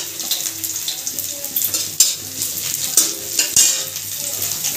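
Onion and green chillies sizzle loudly in a kadai, close up, as a spatula stirs and scrapes against the pan several times in an uneven rhythm.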